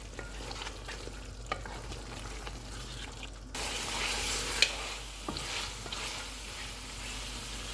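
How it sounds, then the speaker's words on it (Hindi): Mutton frying in oil with green chillies, a close sizzle with occasional scraping stirs that swells louder and hissier midway as the heat rises, without talk. "सब्ज़ मिर्चें डालेंगे, इसको ऑयल अलग होने तक भूनेंगे।"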